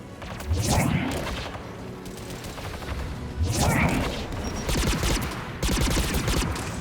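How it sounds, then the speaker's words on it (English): Anti-aircraft guns in Mass Effect 3 fire in heavy bursts: loud booming volleys at intervals, with rapid crackling shots between them, forming a dense, chaotic barrage. "AA guns ahead."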